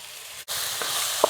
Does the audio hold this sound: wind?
no